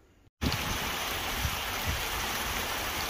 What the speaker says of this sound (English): Well, it's small hail this time, but it's hail.